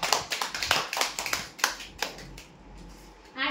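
Audience applause for a prize draw winner. It starts as a run of separate sharp hand claps, then thins out into scattered claps, with a brief noise at the end.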